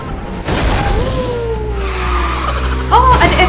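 A car drifting in the kart racing game Speed Drifters, with a sustained tire skid and squeal sliding across a few seconds over engine drone, ending in a brighter squeal burst.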